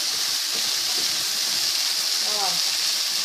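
A steady, broad sizzle of meat frying in a pan fills the clip, constant and fairly close, with a voice speaking briefly over it.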